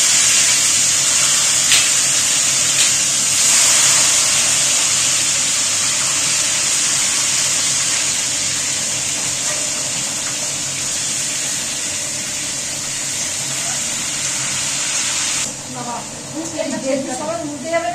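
Pieces fry in hot, splattering oil with a loud, constant hiss and sizzle that stays close throughout, and voices come in faintly near the end.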